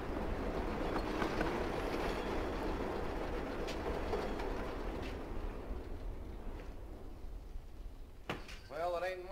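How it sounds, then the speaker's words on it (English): A train rumbles past in a film scene, a loud, steady roar of rolling wheels and rattling cars that slowly fades, followed by a brief ringing tone near the end. "How often does the train go by? So often you won't even notice it."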